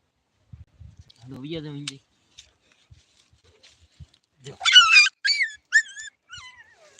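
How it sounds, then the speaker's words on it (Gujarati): A puppy gives a low, drawn-out whimper, then a run of short, high-pitched yips and squeals after a pause, close by in an otherwise quiet setting. "આપણે બીજું ગલું દેખાડું"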